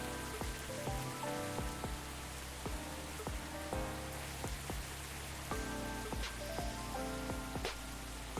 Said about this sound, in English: the rain in the background, it is a bit overpowering